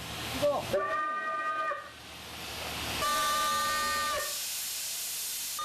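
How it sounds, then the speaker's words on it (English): Two blasts of a manually operated steam train whistle in Borneo, a shrill tonal hoot with hissing steam, the second longer, heard fairly close with quiet pauses between. "The whistle sound is made using steam."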